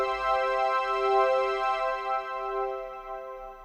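A plain synth organ chord sustains evenly and then slowly fades, rich and bright with a soft low thump at the start, heard alone with no speech.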